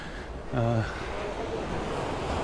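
Rough sea waves washing in at Ciudad Jardín on the Palma de Mallorca coast, a steady broadband surf roar with wind, interrupted briefly by a short burst of voiced sound near the start.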